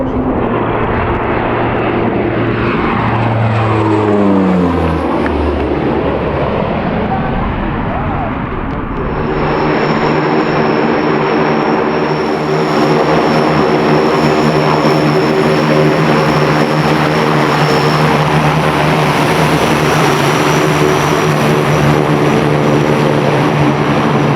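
A restored Antonov An-26 twin-turboprop aircraft flying after twelve years grounded, its engines a steady loud drone that sweeps in pitch as it passes, then a sustained broad roar with tonal hum across the whole span.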